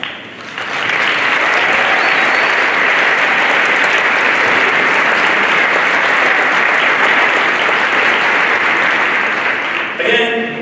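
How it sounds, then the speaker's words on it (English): Students at a high school freshman orientation stand and give a loud, steady round of applause that swells quickly and holds for about ten seconds before fading, with a voice briefly at the end. "If we could have our students stand up and give them a round of applause."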